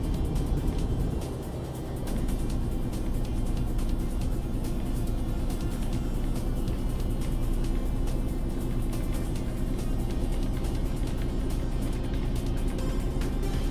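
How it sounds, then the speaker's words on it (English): A 600-horsepower truck engine in the Euro Truck Simulator 2 driving game hums in a continuous low drone on a two-lane road, steady and moderately loud throughout, with no talk over it. "Let's see if I can put my new 600 horse engine to work here."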